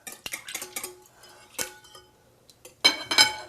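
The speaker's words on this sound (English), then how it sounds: "whisk the simple syrup and the yogurt together" A whisk works simple syrup and yogurt together in a bowl for lemon verbena frozen yogurt, giving a quick run of close metallic clinks and scrapes, a pause, then a louder burst of rapid clinking.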